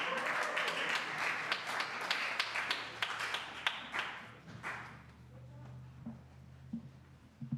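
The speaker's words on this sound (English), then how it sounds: "You can clap." A congregation at a Sunday church service claps for about five seconds, then the clapping fades and a few taps and low rumbles remain near the end.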